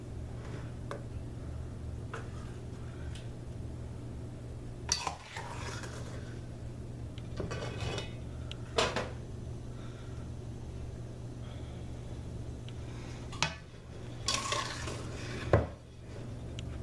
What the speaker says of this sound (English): Now what I do is I usually use my cup measure that I use for the Kayro syrup already, and I try to even it out as possible.